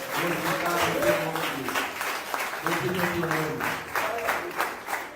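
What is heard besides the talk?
congregation applauding in church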